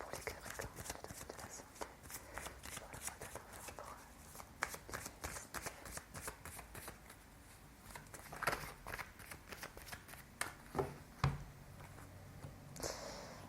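Tarot cards shuffled by hand over a table, a quick continuous run of riffling flutters and soft slaps, close and fairly quiet with no speech.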